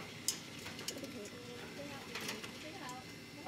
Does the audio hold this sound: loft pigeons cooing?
yes